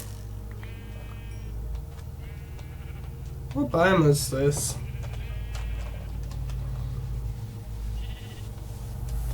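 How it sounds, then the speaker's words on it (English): Rainbow sheep bleat in the Minecraft FTB modpack, a short cluster of wavering bleats near the middle, heard over a low game hum while a person talks. "Must have found the biome of the rainbow sheep."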